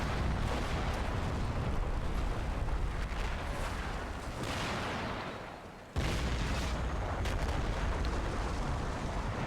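Dragon anti-tank missiles are fired at oncoming BMPs during a Cold War battle game, amid a loud, sustained roar of launches and explosions with a swelling rush midway, a sharp cut, then more booming fire.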